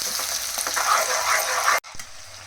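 Onions frying in foaming peanut oil for chicken kurma, a loud dense close sizzle that cuts off abruptly near the end, leaving a faint hiss.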